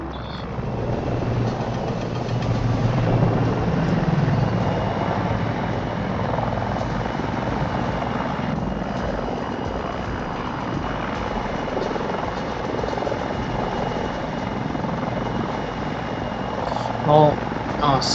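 Super Hind attack helicopter in the video game Battlefield 2042, a steady loud rotor and engine drone running the whole time with a voice talking over it.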